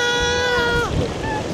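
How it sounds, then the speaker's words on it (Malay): Strong wind buffets a boat out on the water as spray splashes aboard, a loud roaring rush with a short burst of splashing midway and faint whistling tones at the start. "Angin kuat. Lepas tu kita terpercik air dia."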